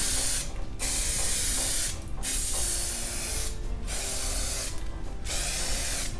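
A spray can of Cainz yellow paint hisses in four long bursts onto a senior mobility scooter, each spray steady and close, separated by brief pauses without talk.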